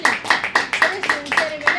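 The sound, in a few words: audience clapping for the madam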